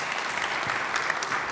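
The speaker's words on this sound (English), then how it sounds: "perhaps a last applause for the panelists" A conference audience gives a round of applause for panelists at a public procurement and space industry event, a continuous, even wash of many hands clapping.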